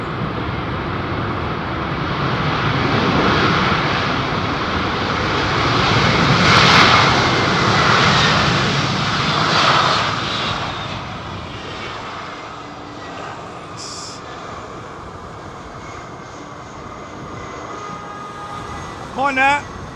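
An airliner engine roars loudly at Heathrow Airport, a broad rushing drone that swells and slowly fades over twenty seconds, with people chatting faintly at the end.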